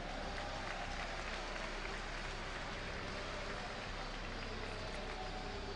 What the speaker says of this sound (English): Ladies and gentlemen, give it up for Rock's Kiss sLivko.